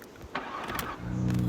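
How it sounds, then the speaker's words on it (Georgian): A Lada car engine cranks and catches, then revs up into a rising, steady mid-pitched roar, heard close and alone. "დაიქუქი ლადა"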